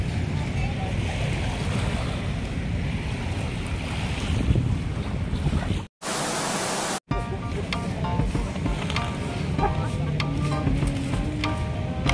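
Steady broadband rush of surf and wind at the Manila Bay dolomite beach shore, constant and fairly loud, with a brief dropout in the middle.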